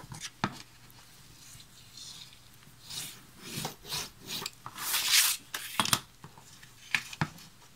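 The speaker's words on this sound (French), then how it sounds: "à l'aide de ma règle et de mon plioir, je vais retravailler les plis" Paper folds creased with a ruler and bone folder during a scrapbook album build, soft scraping and rubbing strokes that grow denser and louder midway, close up with no speech.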